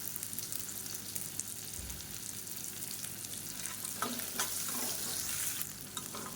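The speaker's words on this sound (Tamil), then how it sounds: "இப்போ வெங்காயம், இஞ்சி பூண்டு எல்லாமே நல்லா வதங்கிடுச்சு." Onion, ginger and garlic sauté in a pan with a steady sizzle and frying crackle, a few stirring scrapes near the end, and no voices.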